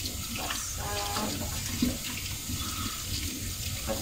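Tap water runs steadily into a sink while a wine glass is washed, a continuous close splashing flow with faint clinks and no talking.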